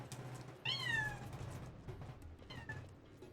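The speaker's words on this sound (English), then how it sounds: "Cat wants in." A cat meows at the door to be let in during a Final Fantasy XII gaming stream. It gives one loud, drawn-out meow, then a softer, shorter second meow, both heard from nearby over a quiet hum.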